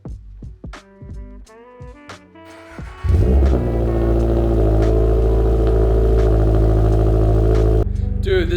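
A 2023 Subaru BRZ with a newly fitted catback exhaust starts up after some clatter and a voice, then settles into a loud, steady, deep idle rumble close by that runs several seconds before cutting off.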